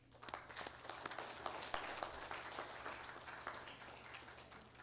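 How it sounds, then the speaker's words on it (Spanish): A church congregation applauds during a Sunday service, a dense, fairly quiet patter of many hands clapping steadily throughout with a low hum underneath. "Vamos a darle un aplauso."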